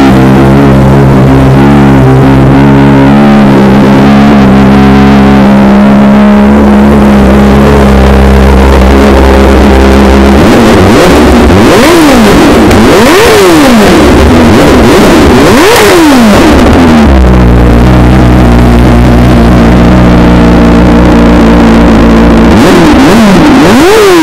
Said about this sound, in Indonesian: mari kita sekarang cuba dengar tengok BMW S1000RR Austin Racing Adjust, bunyi dia macam mana